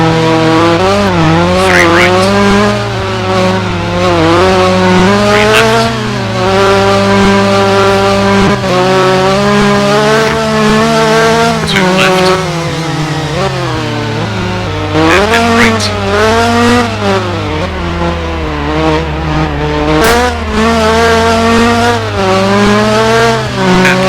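A rally car in a Roblox Group B rally game races through a hairpin, its engine whining loudly through repeated rising and falling gear changes, with tire squeal and a continuous close roar.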